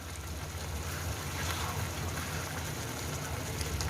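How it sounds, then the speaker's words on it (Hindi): Water pours steadily into a pot of beef bong curry, a continuous loud rushing splash with no breaks and no talking. "अब मैं इसमें पानी ऐड करूँगी।"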